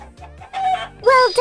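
A hen clucks in a farm animals app game, a few short close clucks over a light, playful game sound.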